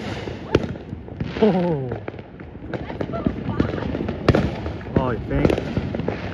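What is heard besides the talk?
New Year's fireworks exploding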